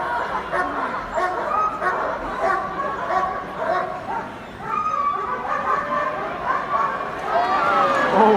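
A police dog barks and yips excitedly during a Crufts police display, the bursts sounding close amid the arena's background noise, with a voice talking at times.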